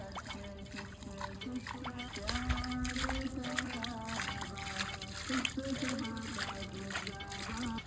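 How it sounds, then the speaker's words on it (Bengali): Water trickles and pours from a bucket during children's play beside a river, with soft splashing under a child's ongoing chatter. "এখানে এগুলো পানি পড়ছে"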